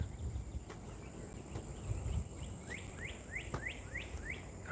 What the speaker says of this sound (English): I hear them birds.